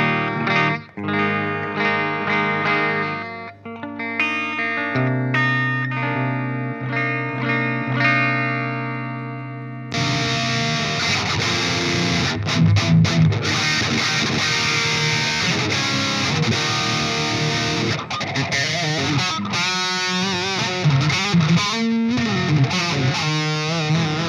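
EVH Stripe Series Star electric guitar with a basswood body, demoed live at NAMM 2015: clean ringing notes with chorus and echo, then loud, dense distorted riffing with chugging chords and leads, no talking.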